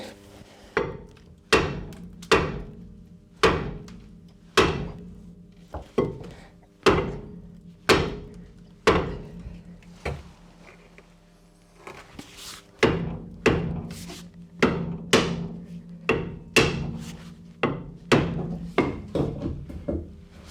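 Repeated heavy hammer blows on a rusted-on brake disc on an Antara, struck one at a time in a steady rhythm with a brief pause near the middle, each impact loud, close and ringing with metal.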